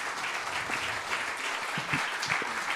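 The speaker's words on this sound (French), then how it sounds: "On peut applaudir Catherine Jandel." A seated audience applauds scientist Catherine Jeandel at a public interview event, a sustained and even burst of clapping without speech.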